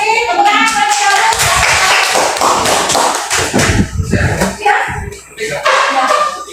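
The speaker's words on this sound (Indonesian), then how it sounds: "Tepuk tangan buat calon." Pupils in a school classroom clap for a candidate, a dense, loud patter of many hands slapping together continuously, with children's voices mixed in underneath.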